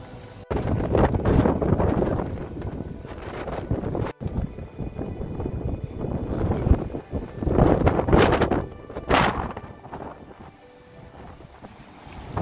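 Strong wind buffets the microphone on the beach at Scheveningen, coming as loud roaring gusts that rise and fall throughout, with sharp surges near the middle and toward the end.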